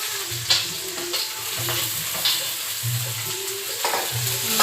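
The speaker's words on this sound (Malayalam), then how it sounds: "എണ്ണ ചൂടായിട്ടുണ്ട്. നമ്മൾക്കത് സവോള ഇടാട്ടാ. എണ്ണ നന്നായി ചൂടായിടണം." Onions sizzle in hot oil in a pan for a home-style chicken curry, a steady crackling fry with periodic scraping stirs, close and moderately loud with no talk.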